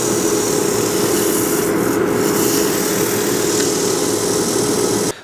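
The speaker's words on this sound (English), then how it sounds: "I'm gonna sand the inside, sand the outside" Sandpaper rubbing steadily over a wooden bowl, a continuous close, loud rasping scrub that holds evenly for about five seconds before cutting off abruptly at the end.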